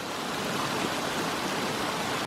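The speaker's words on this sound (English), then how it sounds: "There's more blockage up here that's causing a little waterfall where it's not supposed to be." Small waterfall in a swollen, unusually high creek, formed by a blockage in the channel, a steady close rushing wash of water with no other sound.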